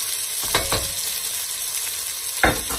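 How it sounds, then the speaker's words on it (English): Onions fry and brown in a pan with a loud, steady, close sizzle, broken by a couple of brief stirring scrapes. "So in with the onions, and what we want to do is brown these onions off."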